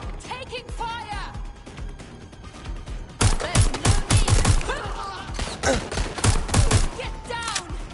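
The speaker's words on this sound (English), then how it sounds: "Taking fire!" Video game gunfire from Watch Dogs Legion, with rapid bursts of shots and impacts that grow louder and denser partway through, mixed with voices and game sound.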